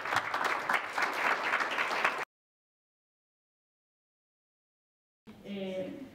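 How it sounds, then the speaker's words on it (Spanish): Participants at a group workshop session clap together in a brief burst of dense applause, followed by a gap of silence and then a person speaking. "Un aplauso a todos que trabajaron"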